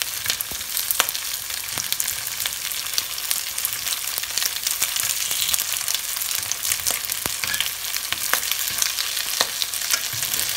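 Ćevapi and pljeskavica patties fry in a pan with oil, giving a loud, continuous sizzle with scattered crackles and occasional scraping as pieces are turned, and no speech.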